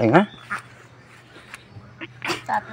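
A duck quacks a few times in short, scattered bursts, fairly close, with a person speaking briefly at the start.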